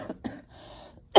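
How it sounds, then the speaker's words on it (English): A post-COVID cough: two short dry coughs in quick succession, then a quiet pause with a faint breath and a louder, harsher cough at the end, close and alone with no talking. "I have got to go get this cough checked out."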